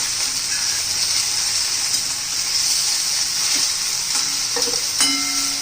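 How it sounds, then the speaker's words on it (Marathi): Okra sautéing in oil in a pan, with a steady, bright sizzle throughout and a few soft clinks of stirring near the end, no talking. "आता ही भेंडी आपण तेलामध्ये जरा परतून घेणार आहोत."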